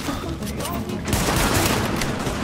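Dense bursts of rapid gunfire ring out in a Tom Clancy's The Division shootout, a continuous rattling volley that intensifies partway through.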